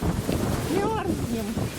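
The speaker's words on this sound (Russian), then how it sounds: "Ветер, холодина, градусов 18." Strong, cold wind buffets the microphone outdoors beside a large lake at a countryside recreation base, a steady roaring rush with faint voices underneath.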